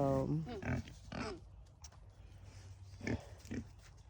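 Pigs on a farm grunt and oink close by in short bursts, with gaps of quieter outdoor ambience between calls.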